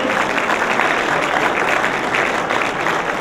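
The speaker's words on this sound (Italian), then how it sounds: "E un grande applauso per la grande impresa" Steady, dense applause from an audience at an awards ceremony for businesses, sustained and fairly loud throughout with no voices standing out.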